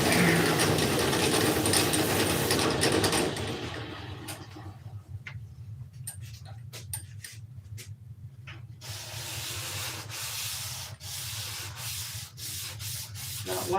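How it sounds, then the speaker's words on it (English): Hand sanding with a sheet of sandpaper, a dense rasping scrub at first, then a series of short separate rubbing strokes, close and fairly quiet with no talk. "This was just a sandpaper."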